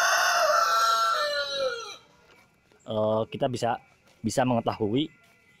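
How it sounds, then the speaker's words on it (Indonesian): A rooster crows loudly and alone in one long harmonic call, followed after a short pause by speech over faint background. "mohon maaf ada suara kokok ayam"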